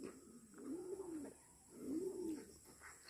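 Racing pigeons back home at their loft give two soft, rolling coos about a second apart, faint and close by.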